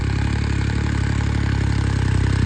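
A tractor engine runs on a sandy Rajasthan track with a trolley in tow, giving a loud, close, continuous low drone at a steady pace with no talk over it.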